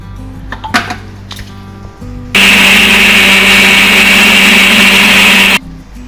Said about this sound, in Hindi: अब हम मिक्सी करते हैं।